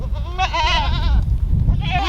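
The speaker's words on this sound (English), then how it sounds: "And then I have one lone goat that got out." A loose goat on a farm lets out two loud, close, wavering bleats, separated by a short pause.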